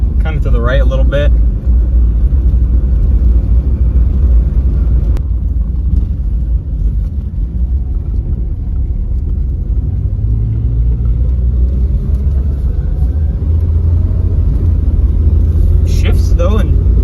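Loud, steady engine rumble of a 1968 Dodge Dart driving, droning low throughout with a few brief rattles.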